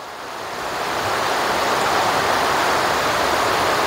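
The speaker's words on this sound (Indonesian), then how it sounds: "Hujan lagi tuh" Rain falling steadily outdoors during motorcycle repair work, a dense continuous hiss that swells in over the first second and then holds loud and even, with no voices.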